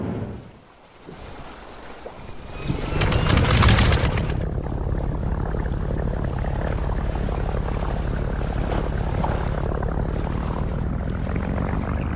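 A propeller plane engine in The Brew Barons coughs, then catches and swells into a loud, rough, steady droning roar that holds for the rest of the stretch, with no talking.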